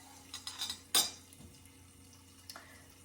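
A spoon clinks and scrapes against a pot while ginger cardamom rice is stirred, a few light knocks and one sharper clatter near the start, then quiet simmering.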